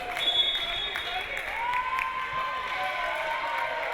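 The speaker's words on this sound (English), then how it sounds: "And this crowd is now on their feet." Crowd at a 2019 NAIA college volleyball match between Texas Wesleyan and SAGU cheering on its feet, a sustained roar of voices and clapping that fills the gym at moderate loudness.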